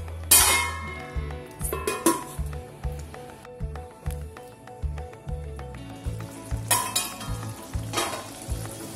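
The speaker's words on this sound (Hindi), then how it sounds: "ऐसे हम ग्रेवी के साथ 4 से 5 मिनट और पका लेते हैं" Bottle gourd (lauki) curry simmering in its gravy in a pan, a steady soft bubbling and sizzle broken by regular scraping stirs and occasional clinks of a spoon against the pan.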